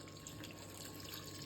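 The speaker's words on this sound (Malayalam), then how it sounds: "ഇനി നമുക്ക് ഈ ചെമ്മീൻ നെകന്നിരിക്കുന്നോളം വരെ നമുക്ക് വെള്ളം ഒഴിക്കാം." Water is poured over prawns in a cooking pot, making a soft, continuous faint splashing and running-water sound with no voices.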